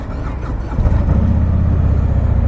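A 2018 Harley-Davidson CVO Ultra Limited with a 117-inch twin-cooled engine runs loud and steady, a deep continuous rumble that swells slightly partway through with no talk.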